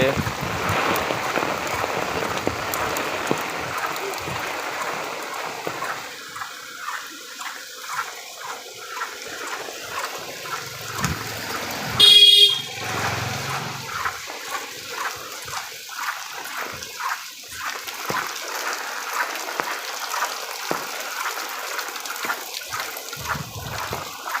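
Heavy rain pours steadily with water running and splashing nearby, a dense continuous wash of sound that swells briefly partway through.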